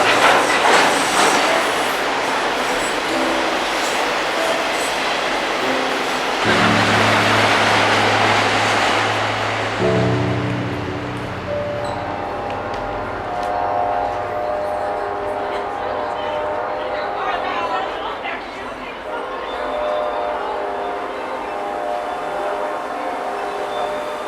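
Tail end of Norfolk Southern train P12 rolling north past the trackside at night, a loud continuous rumble with rhythmic wheel clatter and a steady tonal whine, fading slightly as the last cars go by, with some talk.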